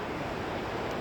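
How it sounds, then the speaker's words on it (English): Wind roars across the microphone in a brief, steady, broadband rush, loud and close, with no voices. "Very windy"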